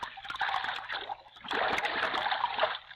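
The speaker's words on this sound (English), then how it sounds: "Right now we find Jimmy, Gene, and Quito bringing their big dugout back across the river and hiding it in the overhanging bushes." A big wooden dugout canoe paddled across a river toward overhanging bushes, with close watery splashes and sloshing strokes in two bursts separated by a brief lull.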